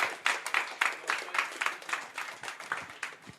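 A student union crowd at a winter elections results event claps in steady applause, a dense rhythmic patter of many hands that holds evenly throughout and comes through moderately loud with no voices on top.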